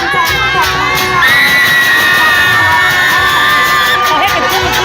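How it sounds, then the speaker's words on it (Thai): A crowd cheers and shouts loudly and without a break at the Nang Sangkhan beauty pageant in Luang Prabang, 2018. High children's voices and a sustained whistle-like tone ride over the cheering. "วันนี้ขอเสียงปรบมือดังๆเป็นกำลังใจให้กับนางสาว"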